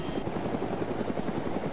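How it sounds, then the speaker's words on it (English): Helicopter in the ArmA 2 game flying with a steady, loud rotor chop, rhythmic blade beats pulsing over a constant engine drone, heard alone and close. "So we're gonna do some tricks with the helicopter."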